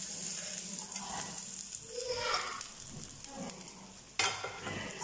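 Hot tempering with asafoetida, cooked on a stove, is poured straight into onion pachadi and hisses and sizzles in a steady wash of frying noise, with stirring scrapes and a sharper burst near the end.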